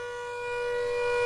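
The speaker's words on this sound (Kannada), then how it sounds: "35 ಕಡೆಗಳಲ್ಲಿ ಇದೇ ರೀತಿ ಸೈರನ್ ಮೊಳಗಿದೆ." A civil defense siren sounds during a mock air-raid drill in a city, a steady sustained wail that holds one pitch and swells gradually louder, alone with no voices.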